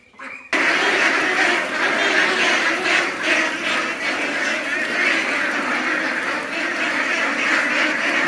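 A large flock of Pekin Star 13 hybrid broiler ducks quacks constantly and loudly at close range, forming a dense, overlapping chorus that starts abruptly and continues without a break.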